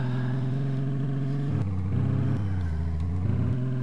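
A car engine in the video game DayZ drones steadily at close range, its pitch dropping and rising as it shifts through revs, with faint rattles over the rumble.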